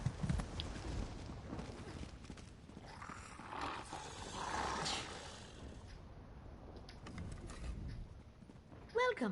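Slow, steady clip-clop of horse hooves walking in the video game Elder Scrolls Online, mixed with game music and ambient sound, with a brief bright chime near the end.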